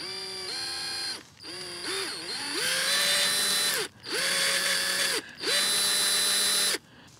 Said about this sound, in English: we have the electric drill, I'm just going to drill into the tree.